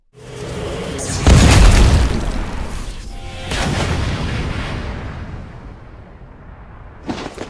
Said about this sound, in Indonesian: Kutukan pelayuan meledak.